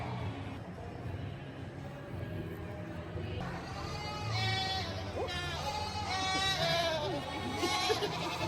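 Several goats bleat inside a barn at Folly Farm in West Wales, a series of nasal, wavering calls overlapping one another and growing louder toward the end over a busy background murmur.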